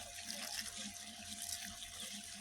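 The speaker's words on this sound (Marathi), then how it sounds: "ह्या इथं पाणी चालू आहे ऊसाला" Irrigation water running steadily into a sugarcane field, a continuous broadband rush and splash with no break, fairly close and unaccompanied by speech.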